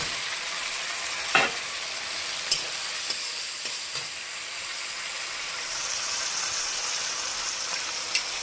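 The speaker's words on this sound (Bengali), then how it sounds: "এই দেখুন মশলাটা কষানো, আলুটা দিয়ে দেবে" Spice paste frying in a pan for a banana-flower dish, a steady close sizzle and hiss with a few sharp clicks and stirring knocks as potatoes go in, no voices.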